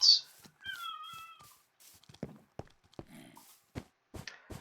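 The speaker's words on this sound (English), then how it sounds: "I just fed you, cat." A pet cat meows a few times indoors, with clear drawn-out calls near the start, followed by scattered soft clicks and taps like footsteps or game sounds; quiet and close, no talking.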